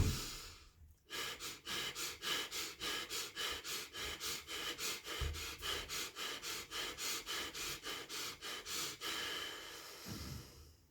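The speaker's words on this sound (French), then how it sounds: "vous arrêtez l'hyperventilation lorsque vous sentez que vous n'avez plus d'air" Hyperventilation breathing exercise: rapid, rhythmic forceful breaths, about two per second, repeated over twenty times in a close, quiet room, with a pause before and a deeper breath near the end.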